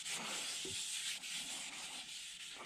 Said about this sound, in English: I'm going to go ahead and wet sand the epoxy with this.